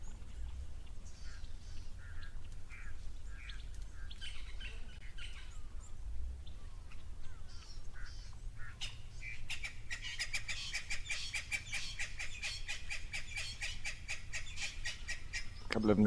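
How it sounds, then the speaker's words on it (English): Two Natal spurfowl at a waterhole break into a harsh, rapid, rhythmic cackling chorus in the second half, loud and insistent, after quieter scattered bird calls over a low background rumble. "A couple of Natal spurfowl now making a racket."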